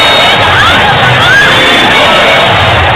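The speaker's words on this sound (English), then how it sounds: "The entire crowd on its feet." A packed basketball arena crowd on its feet roars and cheers during a tense late-game moment between the Indiana Fever and their opponent, a loud, dense and sustained wall of noise with scattered higher shouts.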